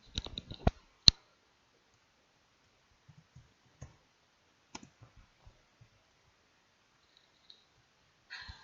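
Computer keyboard and mouse clicks: a quick burst of taps opens, followed by a loud single click, then scattered soft keystrokes and a short rattle of typing at the end, all close and with no talk.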